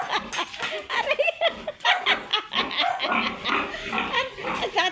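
Loose farm pigs in the rural Philippines grunt and squeal in a busy, overlapping chorus, close by and fairly loud, with a few human voices and laughter mixed in.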